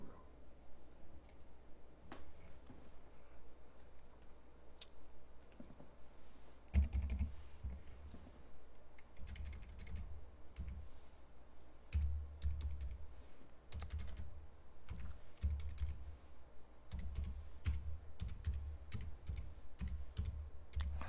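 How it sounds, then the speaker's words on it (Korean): Slow hunt-and-peck typing on a computer keyboard, scattered irregular key clicks in uneven bursts with pauses, close and fairly quiet, no talking. "참고로 제가 독수리타법이에요."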